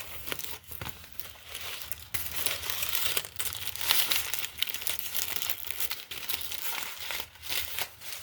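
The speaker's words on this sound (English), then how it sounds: "I even can do like some foil ripping." Foil is ripped and crinkled close up, a continuous run of crisp crackling and tearing bursts with short pauses, quiet and intimate with no talking.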